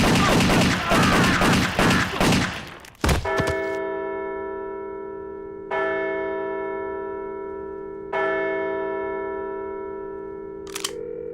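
Video game gunfire: a rapid burst of shots cuts off sharply, followed by a few single metallic ringing hits that hang and decay slowly, loud and near.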